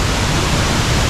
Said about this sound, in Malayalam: അപ്പോൾ വെള്ളം നല്ല ശക്തിയായിട്ട് വീഴുന്നുണ്ട് കണ്ടോ. ഇതാണ് ഇവിടുത്തെ വാട്ടർഫോൾസ്.